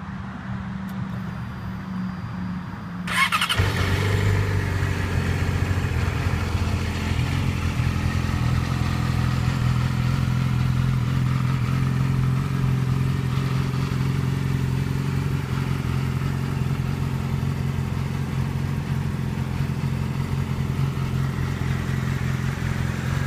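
A 2008 Yamaha R6 sport bike fitted with a GYTR racing carbon slip-on exhaust starts after about three seconds of quiet, then settles into a steady, loud, close idle that holds for the rest of the clip.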